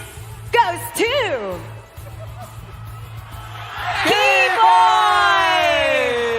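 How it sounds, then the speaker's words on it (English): An esports crowd at the MSC 2023 semifinal between Echo Philippines and Onic Indonesia cheers and whoops loudly, swelling into a sustained roar, with an amplified voice talking over it near the start. "We're getting a lot of cheers from the crowd."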